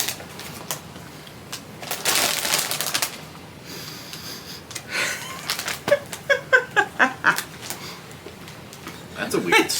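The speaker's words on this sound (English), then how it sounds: "I don't want to rip the bags" Crinkly plastic snack bag packaging rustles and crackles with a burst of sharp tearing sounds midway as it is ripped open by hand, while people talk nearby.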